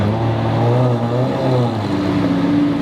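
A Ferrari engine revs loud and close, its tone climbing and falling in a steady, continuous drone with no voices over it.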